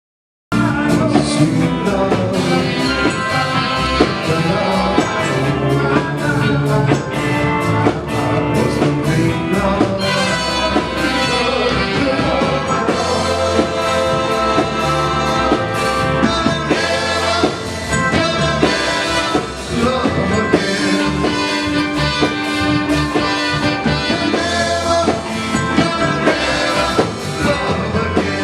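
A full rock and roll band plays loudly and continuously, with driving drums, guitars and bass filling the whole stretch without pause.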